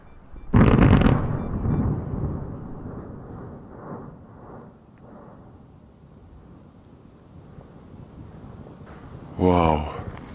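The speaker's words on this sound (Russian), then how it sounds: "Извержения происходили примерно раз в час, и от каждого начисто перехватывало дыхание." A volcano in Guatemala erupting, a loud deep blast at the start that rumbles and fades over several seconds, followed by a brief excited voice near the end.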